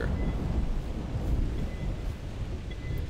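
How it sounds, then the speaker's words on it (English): Low rolling thunder rumbles steadily in the hunting game theHunter: Primal, a broad dull roar that swells and fades without clear peaks, with no voices over it. "Thunder."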